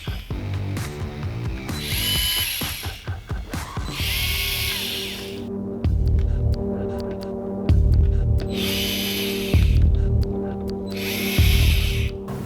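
A DEWALT FLEXDRIVE cordless screwdriver whirs in alternating forward and reverse runs, with repeated motor bursts and ratcheting clicks broken by short pauses, close and fairly loud.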